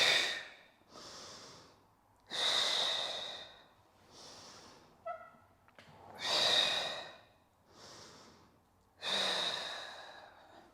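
Deep, audible breaths in and out during a reformer Pilates exercise, about five long loud exhalations alternating with quieter inhalations in a steady rhythm, close and without talk.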